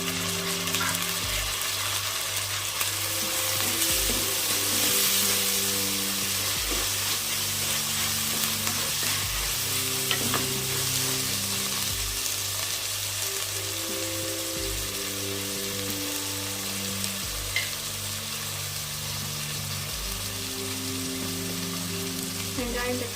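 Chopped tomato frying with softened onion and garlic in a pan for ridge gourd kulambu, a continuous close sizzle with occasional stirring scrapes, no speech.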